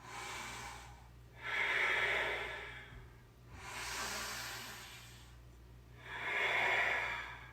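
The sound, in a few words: deep yoga breaths, inhaling and exhaling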